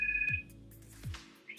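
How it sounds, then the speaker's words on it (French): A mobile phone rings with a short electronic tone, a sustained two-note chime followed by quieter bursts, faint and close, with no voices. "Mon téléphone qui sonne."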